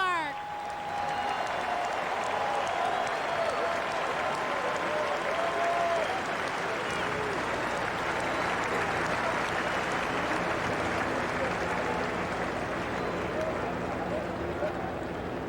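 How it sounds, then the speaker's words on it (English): Large ballpark crowd applauds and cheers at the San Francisco Giants' Opening Day pre-game ceremony in 2000, a dense, sustained roar of clapping lasting throughout, with a few faint tonal sounds from the stadium early on. "Fans, how about a big round of applause for the people who built this magnificent"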